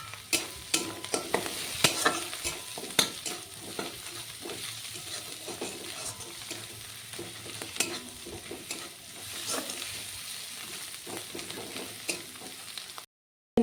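Ginger garlic paste frying in a pan for a soybean curry, with a steady sizzle and frequent scraping stirs of a spatula, close and even throughout, ending abruptly.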